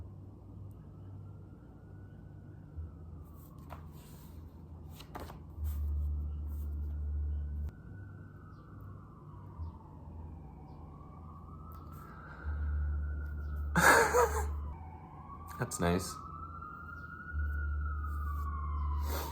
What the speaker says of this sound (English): That siren is the police coming to get me